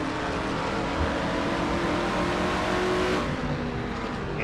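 A race car in the iRacing Castrol GTX Cup Series rounds a turn at Watkins Glen, its engine holding a steady, loud, sustained drone under load with no pause, close and continuous throughout.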